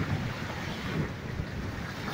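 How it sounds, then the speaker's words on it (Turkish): Rough, confused sea waves washing against a sailing boat on an ocean passage, a steady loud rushing wash mixed with wind noise, with no voices. "Karışık denizler."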